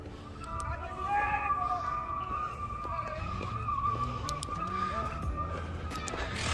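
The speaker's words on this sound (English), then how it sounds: "Oh, his car sounds fucked." Crash-damaged car engine running roughly and unevenly, a steady rattling drone at moderate distance, with voices talking over it.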